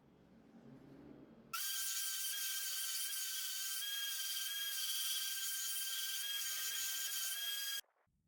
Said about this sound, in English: On the grinder, I do the final tang grinding, gradually reducing the thickness towards the end of the tang.